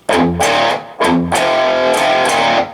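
Heavy distorted electric guitar chords chug and ring out in a short, loud riff, with palm-muted hits and sustained open notes.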